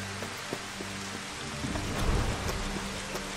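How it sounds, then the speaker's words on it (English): Rain pattering and dripping in Final Fantasy XV, a steady wash of drops with scattered sharper splashes and a low rumbling swell midway, no talk. "Raindrops are looking pretty good."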